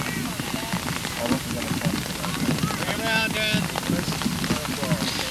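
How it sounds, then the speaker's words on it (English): Rain pours steadily on an outdoor baseball field during a 1998 Little League game, a constant hiss of drops across the whole stretch, with a commentator talking over it and faint distant voices. "As the rain continues to pour down at Warren Field"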